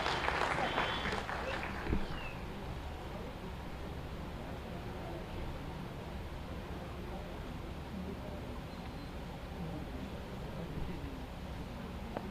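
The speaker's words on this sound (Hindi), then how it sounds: "एक बार तालियों से स्वागत और उत्साह बढ़ाएं इस मंच का।" Crowd applause welcoming dignitaries at a government health campaign launch event in Basti, steady and fairly distant clapping that holds evenly for several seconds after a brief louder burst at the start.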